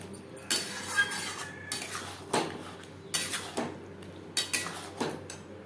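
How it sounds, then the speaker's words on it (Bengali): Potato and pointed gourd with spices are stirred in a pan for a niramish potol paneer dish, with several sharp metallic clinks and scrapes of a utensil against the pan at an irregular pace over a quiet background. "মশলার সাথে আলু পটল 3-4 মিনিট নাড়াচাড়া করে নেওয়ার পর দিয়ে দেবো জল"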